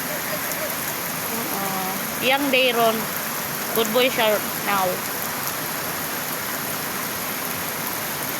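Steady rain hisses without pause throughout, and a few short bursts of voices break in partway through.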